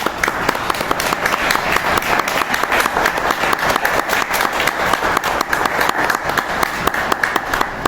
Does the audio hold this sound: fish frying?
no